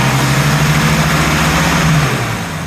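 A straight-piped vintage car engine idles with a steady, low, throaty rumble that eases down slightly near the end; no voices.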